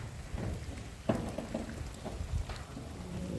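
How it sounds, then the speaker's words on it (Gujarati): Steady rain falling outdoors in a rainy-season setting where masonry work and sheep are nearby, a dense constant hiss with a few soft, irregular knocks and taps mixed in, no voices. "વરસાદ વરસાદ"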